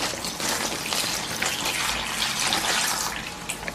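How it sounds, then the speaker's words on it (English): Marinade pours steadily over beef for jerky in a continuous, splashy rush, close up, with no talking. "you're just going to pour this mixture over your meat"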